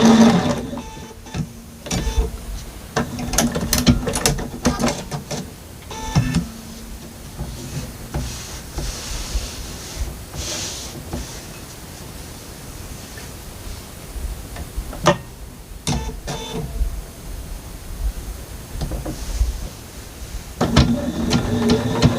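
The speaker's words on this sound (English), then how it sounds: "I will trim it after I sew my diagonals on it." A sewing machine stitches diagonal lines across a quilted fabric bowl cozy with batting, whirring and ticking close by in runs, with brief pauses and handling noises in between.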